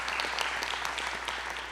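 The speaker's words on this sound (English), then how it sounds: "So big round of applause for our main sponsors." Audience applause for the main sponsors at the Stop the Hate awards ceremony, a steady wash of hand clapping from a large crowd that carries evenly through the whole stretch with no talk over it.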